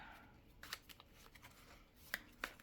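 A few quiet, crisp card riffles and snaps, with short bursts separated by brief pauses in an otherwise hushed room.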